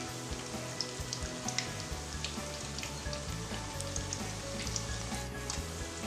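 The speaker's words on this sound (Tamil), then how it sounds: "ஒரு சைடு நல்லா பொரிய ஆரம்பிச்சிருச்சு." Onion pakoda deep frying in hot oil gives a soft, continuous sizzle and bubbling crackle, steady and moderately quiet with no voices.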